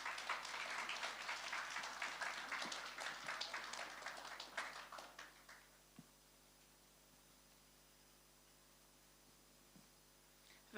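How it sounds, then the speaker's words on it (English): A round of applause at a girls' high school anniversary lecture, moderately distant clapping for about five seconds that quickly dies away into quiet room tone with a couple of small knocks. "A round of applause again for her."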